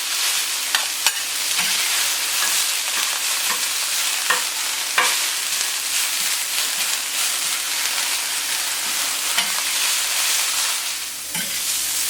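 Prawns sear on a plancha heated to 225 degrees, producing a loud, continuous, hissing sizzle up close with a few sharp clicks and scrapes scattered through, and no voices.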